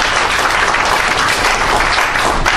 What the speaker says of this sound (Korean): 여러분 박수를 좀 부탁드리겠습니다